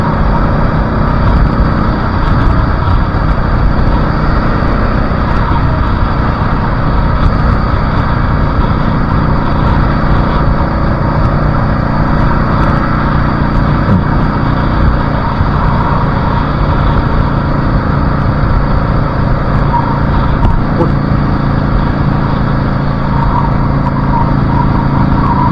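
A Yamaha V Star cruiser with a five-speed gearbox rolls along at a steady pace, a constant loud engine drone blended with heavy wind roar and no real change in level throughout.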